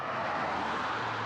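Traffic on widened Highway 88 near Woodfords on the way to Carson Pass: a steady, dense roar of passing vehicles, loud and continuous, with no clear gaps between cars.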